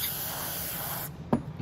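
Cleaner sprays through a Nibbi carburetor from a Venom X22GT 250cc automatic motorcycle in a steady close hiss that cuts off abruptly after about a second, followed by a brief click.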